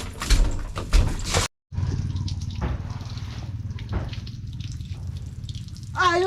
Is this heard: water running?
yes